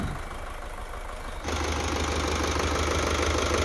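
The turbo diesel engine of an Isuzu Elf NKR71 truck idles with a steady, rough, knocking rumble that grows louder and fuller partway through, heard close up with no speech.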